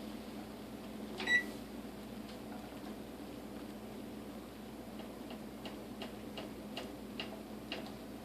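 Kitchen timer being set while grits boil: a short beep followed by a series of soft, regular ticks over a low steady hum.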